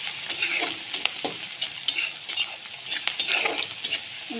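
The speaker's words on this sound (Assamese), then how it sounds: "এনেকৈ অলপ ভাজি ল'ম।" Garlic-ginger paste fries and sizzles in a pan, with steady crackling and repeated scraping stirs from a spoon, close and continuous.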